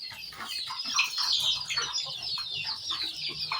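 Native country chickens clucking in a steady, overlapping chatter at an integrated poultry farm, fairly close, with a few sharper squawks and no talking.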